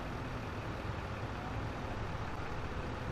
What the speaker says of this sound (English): We'll do it with the fast truck, I think, because it's the quickest machine we've got to take it down to the shop.